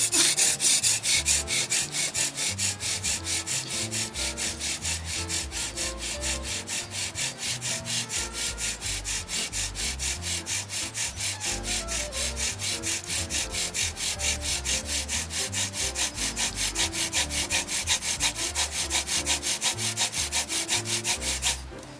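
Friction fire being made on birch wood, a close, steady rhythmic sawing and rubbing of wood on wood that continues evenly throughout with no voices.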